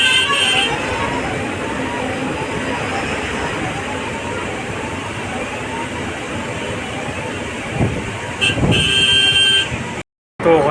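Heavy jammed road traffic heard from a GSRTC BS-6 sleeper bus, with a steady roar of engines and repeated car horns honking, a long blare near the end, and a voice talking over it.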